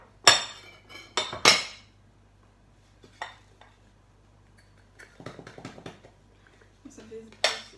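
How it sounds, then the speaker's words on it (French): A microwaved bowl cake is knocked out of its bowl, giving a few sharp clinks and knocks of dish and cutlery, a pair near the start and more scattered taps later, close and moderately loud over a faint hum. "Il ne reste plus qu'à le démouler."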